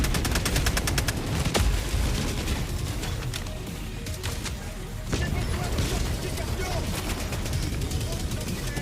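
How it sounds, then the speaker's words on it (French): Heavy machine gun fire in the video game Helldivers II: rapid bursts of automatic shots and booming impacts over a dense, loud battle din, with a voice talking over part of it. "Peut-être pouvoir prendre une petite mitrailleuse lourde."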